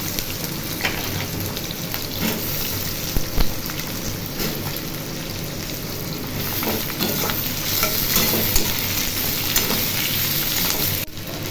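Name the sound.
potatoes frying in a thin wok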